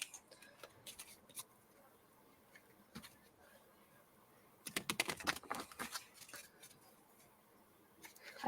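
A deck of tarot cards being shuffled by hand, soft riffling bursts and clicks that come in irregular clusters, with a louder flurry midway, close and quiet in a still room.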